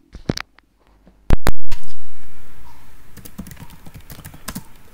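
Fingers tap out a pip install command on a computer keyboard, a few crisp clicks, a pause and a loud thump, then a quick run of close keystrokes over faint room hiss.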